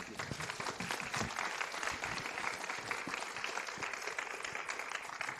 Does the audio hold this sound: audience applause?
yes